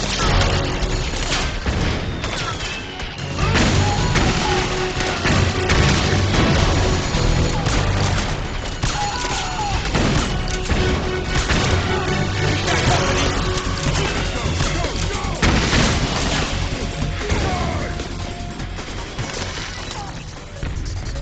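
Gunfire and explosions from Metal Gear Solid 4 form a dense, loud battle barrage of rapid shots, booms and crashes, running continuously over twenty seconds.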